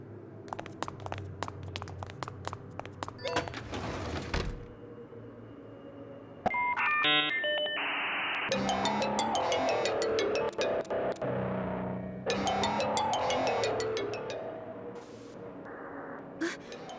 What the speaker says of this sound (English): Even the ringtone is creeping me out.